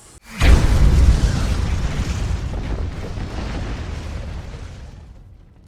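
A single loud hunting rifle shot, from a 6.5 PRC or 7 PRC, cracks close by at an outdoor range at La Perla Ranch, then rolls into a long, slowly fading echo.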